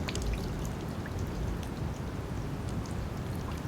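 A 3.5-watt solar fountain pump sprays water about 20 inches into the air, a steady close splashing and pattering of droplets falling back into the basin without a break.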